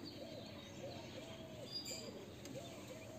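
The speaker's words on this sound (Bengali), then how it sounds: "এই দেখুন দুটো পায়রা একসাথে" A pair of Murshidabad pigeons coo softly nearby in a few repeated, rising-and-falling rolls over a low background hum.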